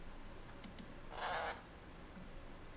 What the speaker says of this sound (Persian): اینم صدای توتی بود